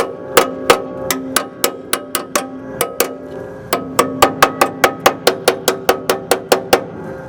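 A hammer striking the rusty lower cowl sheet metal of a 1964 Ford F100 during repair, about two dozen sharp ringing metallic blows in a steady rhythm with a short pause partway, close and loud with no talk.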